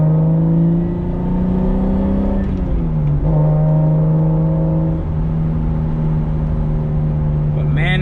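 A non-turbo Toyota Supra converted to a manual gearbox drives with a steady engine drone, dipping briefly through a gear change before settling back to a constant cruise, close and loud, with wind and road noise beneath.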